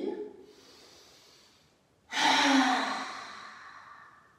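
A deep pranayama inhale: a faint drawn breath first, then after a short pause a sudden loud, long rush of air through the nose and mouth that fades slowly, close and alone.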